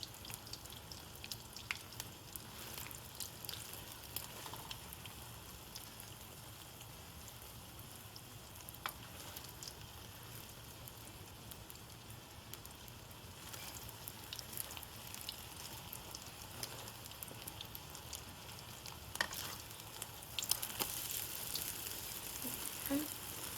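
Eggs and tomatoes stir-frying in a pan give a steady, soft sizzle with occasional scrapes and clinks, running continuously and fairly quiet throughout.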